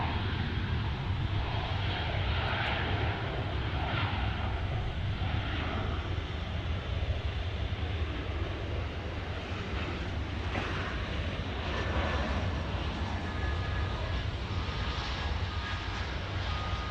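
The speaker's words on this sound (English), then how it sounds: "We get another GA, General Aviation Corporate Jet, a fancy flyer right there" Dassault general aviation corporate jet at an airport, a steady distant engine roar held evenly throughout, with some wind noise and no talking.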